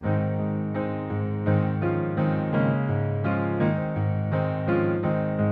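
A solo piano plays a flowing melody over sustained chords, steady and clear at a moderate volume.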